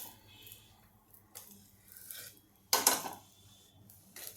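Beetroot cutlets are lifted from the pan onto a plate, a few quiet scrapes and one sharp metallic clink of the utensil, faint kitchen sounds between.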